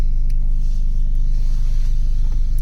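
A Honda car's engine rumbles steadily while driving, a close, loud low drone with a fine pulsing texture and faint clicks over it, no talking.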